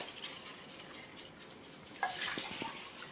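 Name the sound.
tap water filling two containers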